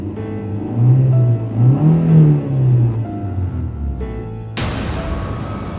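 A car engine revs and rises in pitch as the car speeds off, rumbling loudly, then gives way to a sudden burst of broadband noise near the end.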